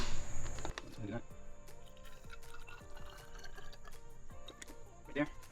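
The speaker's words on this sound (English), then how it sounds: "we're gonna fill it with water until we hit that blue line" Water poured into a container being filled up to a marked line in a car workshop, heard as a faint, quiet trickle with scattered drips and small splashes.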